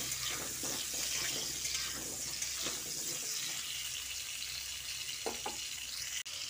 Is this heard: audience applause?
no